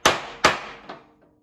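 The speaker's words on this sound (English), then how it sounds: "And hammer it till it's just a little bit past flush." A hammer strikes a seal being driven into a 1986 K10 front driveshaft, three sharp metallic taps with ringing decay, the last one lighter, alone in a quiet workshop.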